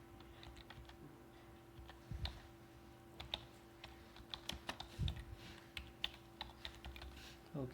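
Light, steady typing on a computer keyboard while entering text in PowerPoint, heard as quiet irregular key clicks over a low steady hum, with faint occasional sounds from the room.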